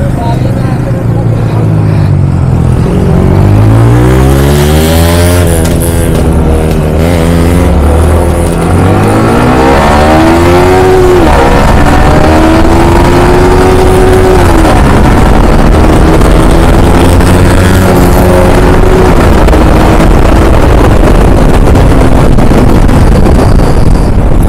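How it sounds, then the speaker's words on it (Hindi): Loud, continuous engine revving from a vehicle doing a tire burnout, with rising and falling pitch sweeps over a roaring, smoky spin; people talk underneath throughout. "भाई बॉर्न आउट मारा है, टायर खत्म"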